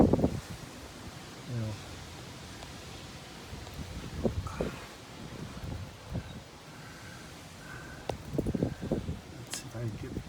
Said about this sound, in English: Good grief, that wind.